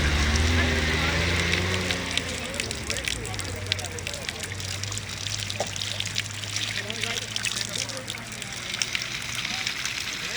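Hot spring water flows and trickles continuously out of a mountainside beside a road near Chilas, a steady close splashing stream with people talking over it.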